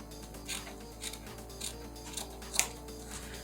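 Scissors cut felt for small craft felties, a regular series of soft snips roughly every half second, close and quiet over a low steady hum.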